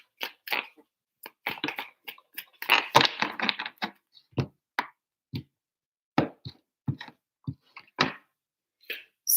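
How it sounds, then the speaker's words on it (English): Tarot cards being shuffled close up, with irregular crisp slaps and riffles separated by short pauses, heard alone without speech. "3 shuffles for Libra."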